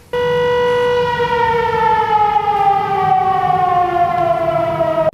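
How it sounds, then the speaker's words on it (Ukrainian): Air raid siren wails loud and steady during an alert at a coke plant in Dnipro, a single long tone slowly sliding downward in pitch and filling the whole stretch with no voices. "Під час перевірки оголосили повітряну тривогу."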